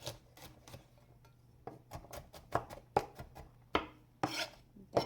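A knife cuts onion and garlic into big chunks on a board, giving scattered, sharp, close chops and scrapes at an uneven pace, fairly quiet, with no voices.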